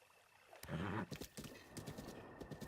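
A horse gallops in The Legend of Zelda: Breath of the Wild, its hoofbeats drumming in a quick, steady clip-clop rhythm up close, with what may be a brief whinny early on.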